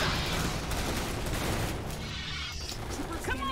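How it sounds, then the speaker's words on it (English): Shotgun fire in the Starship Troopers: Terran Command strategy game, a dense and continuous barrage of loud overlapping shots that keeps a steady battle roar throughout. "Love my shotguns."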